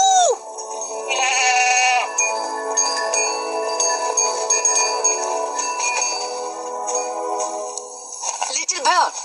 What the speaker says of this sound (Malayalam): മാടിയൻ ആടുകൾ, എന്ത് കഷ്ടം ഇത്, വേഗം വരാൻ.